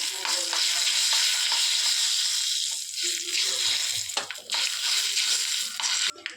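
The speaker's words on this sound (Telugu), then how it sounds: "ఇవన్నీ కూడా వేయించుకోవాలి." Ingredients for ginger chutney frying in a pan, a loud, continuous close-up sizzle with intermittent scraping from stirring and a brief dip near the end, no voices.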